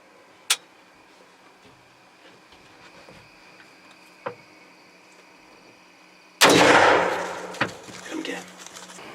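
A loud rifle shot fired while deer hunting in southern Iowa cracks out sharply with a trailing boom, preceded by a few faint clicks and followed by quick rustling movement nearby.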